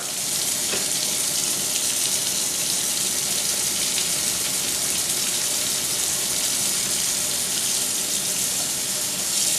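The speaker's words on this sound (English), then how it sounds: "Scrub them until they get clean, and then you're going to rinse them." A tap runs in a steady, loud, unbroken rush while makeup brushes are rinsed at a sink after being scrubbed on a Lego board in a cleaning mixture.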